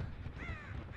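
A crow caws in the horror video game Dead by Daylight: one harsh, drawn-out call rises over a low ambient rumble, with a fainter second caw starting near the end.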